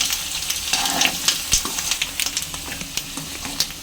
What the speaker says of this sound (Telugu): ఇప్పుడు అంతా కలిసేలాగా మిక్స్ చేసుకోవాలి